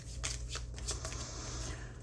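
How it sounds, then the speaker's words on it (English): Tarot cards being shuffled by hand close up, a quick run of riffling, papery bursts over a low background hum. "as I'm shuffling here, Tyldwick really is more enjoyable to shuffle"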